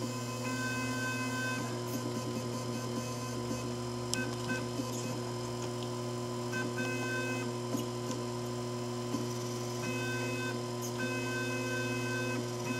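CNC lathe spindle, switched on through Mach 3 software, running at a steady pitch with a constant electrical hum and whine and no pauses, while faint small ticks and clicks come through now and then.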